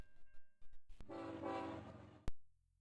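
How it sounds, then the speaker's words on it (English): Train departing: a few rhythmic chugging puffs lead into a sustained horn blast with clattering rail noise, ending in a sharp clunk and quiet hum. "The train is about to depart."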